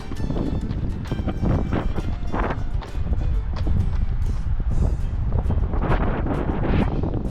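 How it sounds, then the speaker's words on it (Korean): Strong gusty wind buffets the microphone on a cold outdoor marathon course, roaring and rumbling loudly in uneven bursts with brief lulls, close and harsh throughout, no voices. "바람 너무 울고 공포의 시간이 또 도래했어요"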